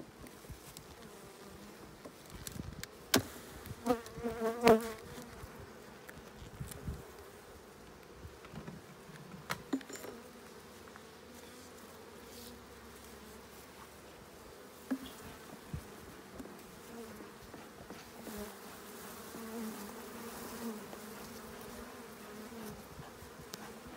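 Honey bees buzz around an opened beehive, a faint, continuous hum with occasional louder passes close by, and no talking.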